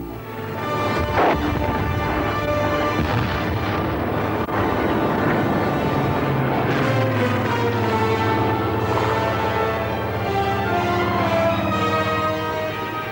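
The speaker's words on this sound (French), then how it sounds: "Je filme des avions qui volent à notre secours." Aircraft roar overhead in wartime film footage, a loud, continuous engine drone that swells and shifts in pitch as the planes pass, with no talk over it.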